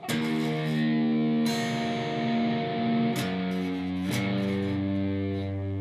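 A blues guitar riff on a distorted electric guitar is played slowly, with several muffled strums and ringing low notes in an uneven rhythm, loud and close with no voices.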